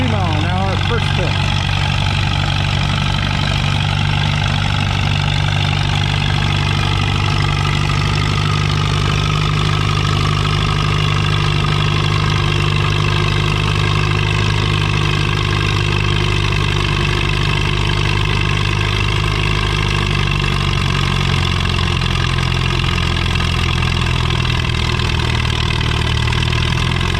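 A vintage Massey 55 tractor engine runs steadily at a tractor pull in Lynden, Washington, a loud continuous low diesel drone that holds for the whole stretch with only slight shifts in pitch.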